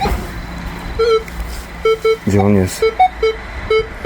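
A Minelab Manticore metal detector emits repeated short electronic beeps in an uneven rhythm, with a deeper warbling tone midway and someone speaking briefly.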